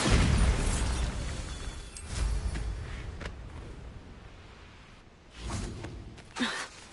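A Bombarda spell in Hogwarts Legacy bursts with a heavy boom at the start, followed by fainter whooshes and a second and third blast later, then smaller pops and rumbling under game ambience.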